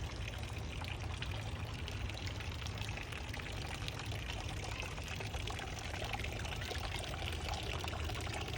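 Water trickling steadily into a garden pond in a community garden, a continuous soft splashing and gurgling that stays even throughout with no voices.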